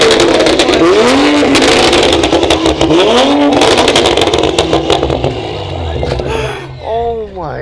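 A Toyota Supra fitted with an ARK Performance DT-S exhaust revs loudly in repeated rising bursts, the engine roaring close by with a raspy, crackling edge between pulls.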